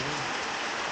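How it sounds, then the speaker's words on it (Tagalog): Rain falls outside in a steady, even wash of hiss and patter, heard alone for a brief moment. "See, it's raining."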